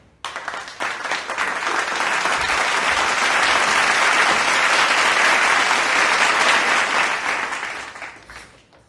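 An audience at the White House Correspondents dinner applauds in welcome for President George W. Bush, a loud, dense wash of clapping that swells quickly, holds steady for several seconds, then fades away.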